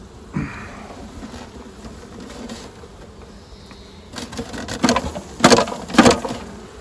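A freshly captured honeybee swarm hums continuously at close range, the buzzing swelling in the second half with several loud cracking knocks from the wooden hive box.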